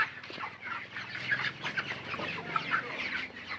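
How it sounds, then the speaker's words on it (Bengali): Twenty-six-day-old Kazi company broiler chickens suffering in the heat cluck softly and continuously, a close, low murmur of overlapping calls from the flock. "এলো ব্রয়লার মুরগি"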